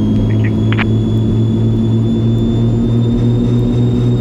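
Jet engines roar steadily during an airplane takeoff roll, a loud continuous drone with a layered low hum and a thin high whine running throughout.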